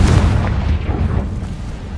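A loud, close blast from the Confringo spell in Hogwarts Legacy, a heavy boom with a low rumbling tail that fades over two seconds.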